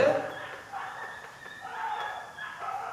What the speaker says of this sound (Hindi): कुत्ते सच्ची में रो रहे, भौंक रहे हैं